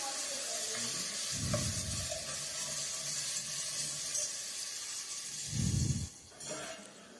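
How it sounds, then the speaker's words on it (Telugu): Biryani masala fries in a pan with a continuous close sizzle. Two louder bursts of stirring or scraping rise over it, and there is no talking. "ఈ మసాలా మొత్తం పచ్చివాసన పోయే వరకు వేయించుకోవాలి"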